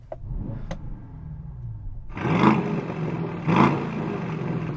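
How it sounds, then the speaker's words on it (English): An Aston Martin DBX707 engine is revved twice while stationary, each blip rising to a loud roar then settling back to a rumbling idle, heard close up with a couple of faint clicks beforehand. "So I'm going to rev up this Aston."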